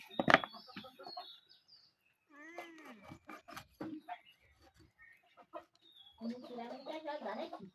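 A home-raised country rooster and chickens cluck and squawk in short, loud, close bursts, mixed with voices of people talking nearby as a bird is slaughtered and cut.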